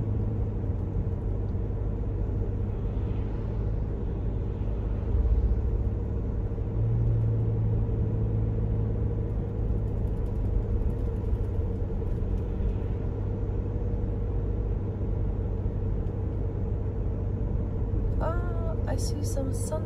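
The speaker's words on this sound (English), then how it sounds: "There are cars coming." Cars pass on a snowy winter road in Switzerland, a steady low rumble of traffic that fills the whole stretch and shows no distinct pass-bys.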